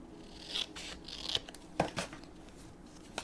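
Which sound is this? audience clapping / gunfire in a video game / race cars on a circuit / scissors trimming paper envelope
scissors trimming paper envelope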